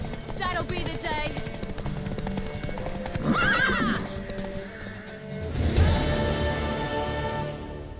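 A horse in The Witcher 3 pounds along with quick clip-clopping hooves, then lets out a sharp, loud whinny midway, with game characters' voices heard around it.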